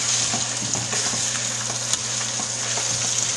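Carne asada sizzles steadily as it is reheated in a pan, a dense, close crackle with a few louder pops and stirring scrapes, with no talking.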